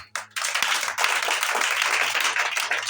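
A church congregation bursts into applause for Jesus Christ, a dense wash of clapping that starts after a brief pause and holds steady for a few seconds, with a low hum underneath.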